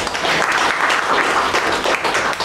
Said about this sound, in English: Let's give our evaluation a big round of applause.